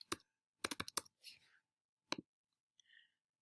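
Fingers tapping a computer keyboard while entering an axis title, a few quick clustered key clicks in short bursts separated by silence, close and fairly quiet, with faint breathy sounds between.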